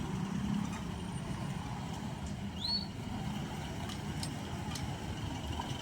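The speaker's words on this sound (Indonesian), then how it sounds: "ada truk ayam Isuzu Giga" Isuzu Giga chicken truck rolling past at a rail crossing, a moderate engine drone with a brief rise in level midway and a short chirp over steady traffic hum.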